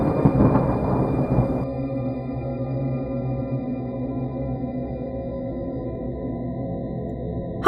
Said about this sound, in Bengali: আর ঠিক তখনই আকাশে ভয়ঙ্কর বজ্রপাত হলো।